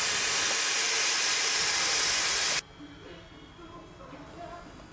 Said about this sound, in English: I'm going to hopefully get this cleaned up with the sandblaster